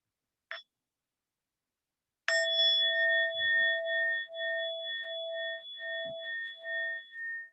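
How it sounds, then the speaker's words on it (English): A meditation bell is struck once with a bright attack, then its clear, pure tone hangs and slowly fades over several seconds in a quiet room, preceded by a faint short chime. "with the sound of the bell, we'll bring this meditation to an end"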